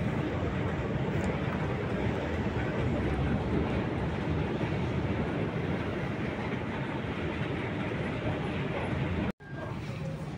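Passenger train ride in Saudi Arabia: steady loud rumble and roar of the rolling carriage throughout, with a brief cut near the end before the noise resumes.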